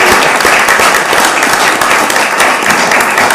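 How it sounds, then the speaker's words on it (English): A council meeting room fills with a sustained round of applause, dense and even throughout, with a few voices faintly mixed in. "I think it would be appropriate to give Gay a round of applause"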